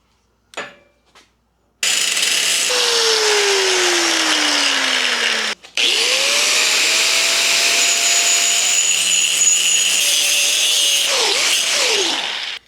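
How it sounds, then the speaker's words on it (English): A power tool cuts and grinds into the steel frame of an off-road buggy, a loud close whine that runs in long sustained passes with pitch sweeps, after a few brief knocks. "this helps me figure out exactly where I need to cut, and then we'll grind from there"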